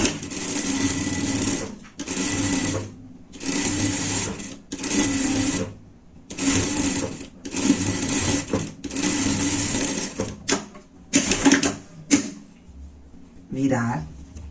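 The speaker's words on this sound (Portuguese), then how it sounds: "Passar uma costura aqui." A sewing machine runs a seam on a lined bear-style pet jacket, buzzing loudly in bursts of one to two seconds separated by short pauses. A few quieter mechanical clicks and handling noises fall between the runs. No one speaks.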